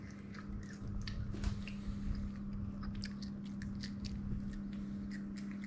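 Someone bites and chews whole fried shrimp caught and cooked on the coast. Close, repeated crunchy bites and chewing crackles continue over a low steady hum.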